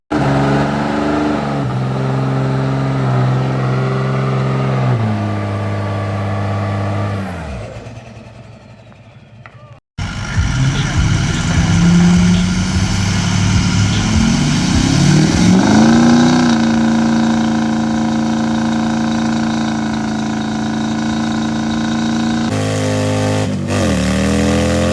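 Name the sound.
car doing burnouts on a concrete pad, engine revving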